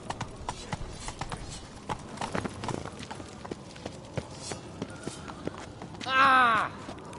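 Roach the horse trotting in The Witcher 3, a steady run of clip-clop hoofbeats near and clear, followed by a short burst of a louder horse whinny or neigh at the end.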